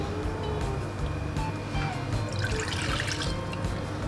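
Water splashes and trickles steadily into a cup, a continuous liquid pour with no talking.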